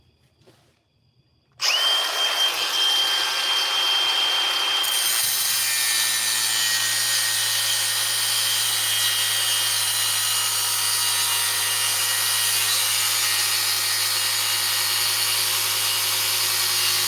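A workpiece clamped in a vise is sawn with a power tool that starts abruptly after a quiet moment, then runs as a loud, steady, continuous cutting whine with no talking.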